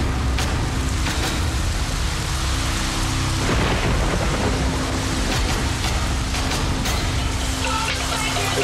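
A violent island storm with heavy, steady rain pouring down and deep thunder rumbling throughout, loud and close, with no voices.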